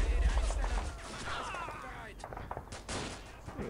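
Gunfire in Men of War: Assault Squad, Battle of Kiev mod, opens with a loud, heavy burst, then trails into scattered, more distant shots while someone talks in Spanish.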